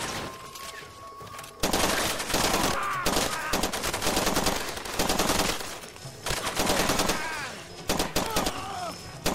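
Light machine gun fire from Far Cry 2 rattles in long, loud sustained bursts through most of the stretch, with short gaps between volleys and a voice talking over parts of it.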